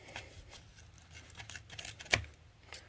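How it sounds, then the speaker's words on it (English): Scissors cutting carpet for upholstery wrapping, with scattered soft snips and rustles and one sharp, louder snip just after two seconds, heard close in a quiet room. "So, first thing you want to do is take your scissors."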